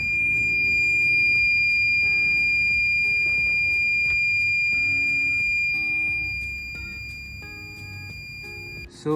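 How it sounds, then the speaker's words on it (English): Buzzer on a temperature-sensor circuit triggered once the reading passes 35 °C, sounding a steady, close electronic tone that repeats in short regular pulses over a low background hum. "But when the temperature above 35 Celsius, the buzzer is initiate also."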